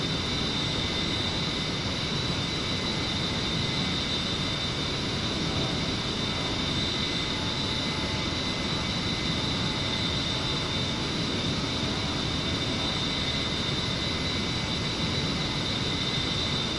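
A steady, unbroken A-10C jet engine roar at max power in the DCS flight simulator drones on at constant pitch, a loud continuous rush with a faint high whine on top.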